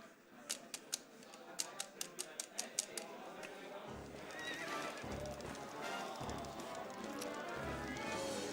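Horse sounds from Zelda: Twilight Princess during a speedrun: a string of evenly spaced clip-clop hoofbeats, then a whinny, followed by a steady galloping rumble and wind-like game ambience, fairly quiet and with no voices.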